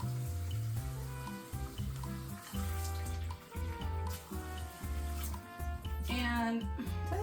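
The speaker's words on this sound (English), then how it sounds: "my water that comes out of the tap from the hot water heater is roughly 130 degrees" Hot water from a heater runs out of a kitchen tap in a steady, continuous stream, with faint background sounds through the clip.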